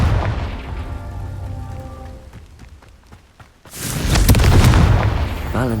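The Confringo blasting spell sets off a loud, close explosion: a rumbling buildup with sparse crackles, then a sudden powerful boom that roars and crackles for the last couple of seconds.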